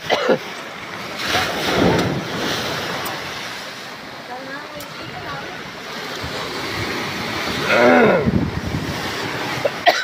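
Rough sea during Typhoon Ramil, with heavy rain, buffeting wind and surging waves around a boat, the wash rising and falling in loud swells while people talk over it.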